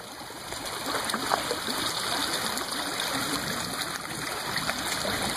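Continuous rushing of flowing creek water, a steady moderate wash with no talking.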